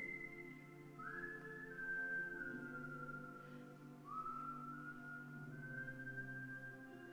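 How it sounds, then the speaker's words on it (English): A lone person whistles two long sustained notes, each rising into a held tone and fading, close and moderately loud with no speech, performed on stage in a theatre play. "but I could whistle"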